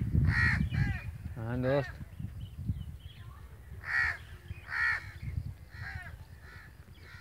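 Several crows caw overhead in short harsh bursts, some loud and near, others fainter, in an outdoor spot beside a rice field being sprayed, with a person talking briefly at the start.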